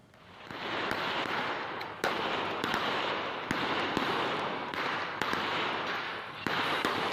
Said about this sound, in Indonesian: Polisi terpaksa melepaskan tembakan untuk membubarkan sekelompok orang yang diduga terlibat penjarahan barang milik perusahaan.